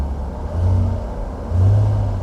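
A car engine is blipped twice to about 2,000 rpm, each rev a short, loud exhaust swell rising from a low rumble and dropping back, heard close with no talking.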